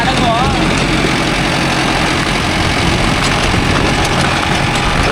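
Mahindra Arjun Novo 605 DI tractor engine running steadily at a loud, constant idle-like drone, close to the microphone, with a voice briefly talking over it.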